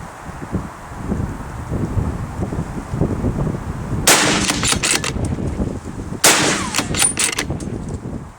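Gunshots fired outdoors: two sharp, loud reports about two seconds apart, each ringing out with a brief echo over steady, rumbling wind buffeting the microphone.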